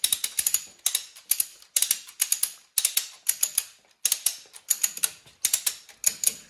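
A ratchet strap is cranked tight near a vehicle's axle while the rear control arms are worked on, giving close, crisp clicking in repeated rapid bursts with brief pauses between strokes and no talking.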